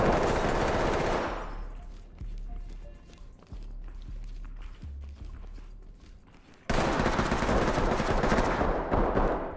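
Gunfire in the tactical police shooter game Ready or Not, a dense loud volley at the start, then scattered sharp shots and thuds in a quieter stretch before another heavy loud burst.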